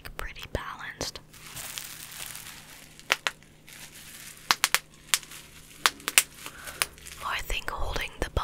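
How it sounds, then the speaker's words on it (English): Bubble wrap crinkled close to a microphone, sharp scattered crackles and pops against a quiet background, with soft whispering in places. "holding the bubble wrap paper here at the side."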